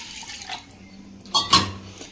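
Water poured from a vessel into a pressure cooker holding marinated mutton for biryani, a brief close splash and gurgle after quiet kitchen background.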